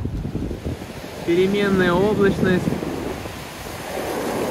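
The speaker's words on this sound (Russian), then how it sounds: "А на море волнение." Rough Black Sea waves at Sochi wash and roar steadily under gusty wind noise on the microphone, while someone speaks briefly over the surf.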